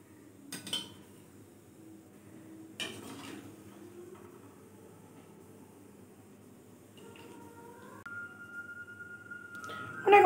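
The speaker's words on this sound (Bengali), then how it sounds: "দেখো এবার আমি সার্ভ করে দিচ্ছি" Chicken stew is served in a kitchen, with a few sharp clinks of dishes and cutlery early on, then quieter scraping and a rising ringing tone near the end.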